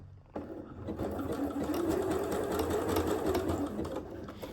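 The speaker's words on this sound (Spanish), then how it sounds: "Y ahí ir estirando y cosiendo." A sewing machine runs steadily, stitching a bandeau bra while the fabric is stretched as it feeds. The motor whirs continuously at close range for about four seconds after a brief quiet start, with no talking.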